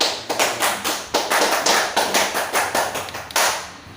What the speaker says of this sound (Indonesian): tepuk tangan kepada Dayat.